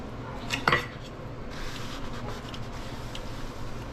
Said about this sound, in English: Let's cut this steak.